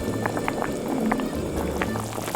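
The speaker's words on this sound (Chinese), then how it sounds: "倒入开水，至少要没过肉块。" Boiling water poured into a pot over browned beef shank for braising, a continuous bubbling, gurgling liquid rush with small splashes, close and fairly loud throughout.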